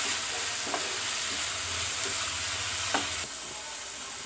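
A spicy onion and egg curry with chilli powder is stirred in a hot pan, giving a steady close sizzle with a few soft scraping knocks of the spoon against the pan.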